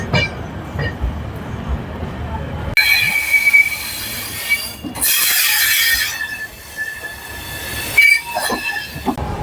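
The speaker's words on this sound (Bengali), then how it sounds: "আর আমাদের ট্রেন ডিপার্চার নিয়ে নিয়েছে এখান থেকে" The 18409 Shri Jagannath Express pulls out of a station with loud, piercing wheel squeals over rumbling rail noise, screeches rising and falling close by.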